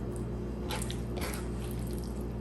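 Washed, drained chicken pieces drop into a bowl for marinating with soft, wet squishing and dripping sounds, two small clusters close by over a constant low background hum.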